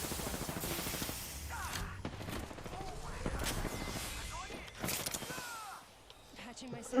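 Rapid gunfire and scattered shots ring out during an Apex Legends match, mixed with mechanical clicks and creaks, heard faintly and fairly dense under a speaking voice.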